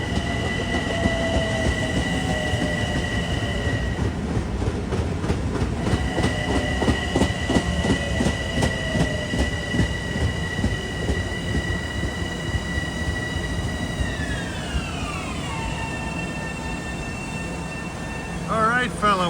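Long Island Rail Road train 2601 rolls through Queens Village station during the morning rush with a loud, sustained rumble and rhythmic wheel clatter. Steady electric whines hold, then slide downward near the end.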